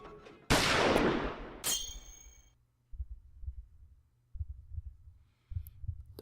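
A single loud pistol shot rings out sharply, followed by a second sharp crack with a metallic ring, then a low thudding pulse like a heartbeat repeating several times in the quiet.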